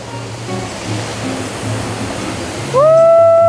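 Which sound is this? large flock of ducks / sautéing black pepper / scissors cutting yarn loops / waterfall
waterfall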